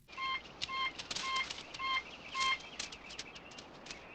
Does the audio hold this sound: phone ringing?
yes